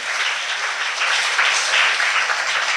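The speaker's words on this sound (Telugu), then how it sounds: "కొట్టండి చప్పట్లు, దేవునికి స్తోత్రం" A church congregation claps together in dense, sustained applause that holds steady and swells slightly near the end.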